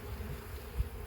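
Honeybees from a package being installed in a hive give a faint, low, steady hum close by, brief and unbroken with no talking.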